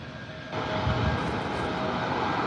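An airliner in West Coast Wonders livery departs San Diego airport, a broad steady engine roar that swells after a quieter first moment and holds without voices.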